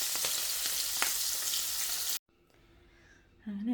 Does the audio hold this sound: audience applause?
no